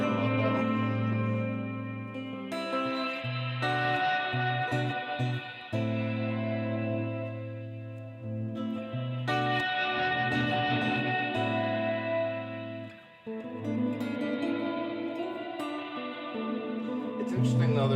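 Old Blood Noise Endeavors Dark Star Stereo Reverb pedal shaping a sustained, heavily effected guitar tone, with thick washed-out reverb and pitch-shifted layers swelling continuously and loudly throughout, briefly dipping near the end.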